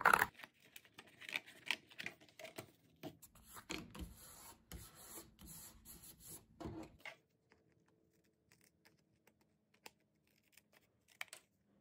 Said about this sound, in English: I'm going to cut the piece out and then I will trim it